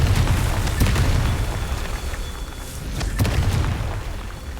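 An explosion from the Confringo fire spell in a Hogwarts video game, a loud sustained booming roar with crackling bursts that swells again near the end, playing alone without talk.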